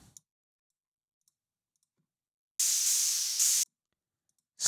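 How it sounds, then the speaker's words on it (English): Raw noise from an LMMS triple oscillator synth with no effects: a bright, hissing burst of about one second that stops abruptly, then starts again briefly at the end, with faint clicks before it. "a triple oscillator for noise and nothing else, literally just for noise"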